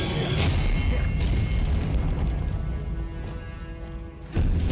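A spell being cast in the video game Hogwarts Legacy, heard as dense booming, rumbling bursts with sharp crackling onsets, loud and close, ending in a fresh impact.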